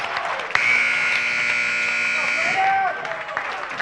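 Basketball game buzzer sounding at the end of a quarter, a long loud sustained electronic tone lasting about two seconds over crowd noise, followed by a brief rising whistle-like call.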